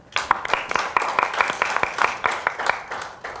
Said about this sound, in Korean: 한번 박수로 큰 격려합시다.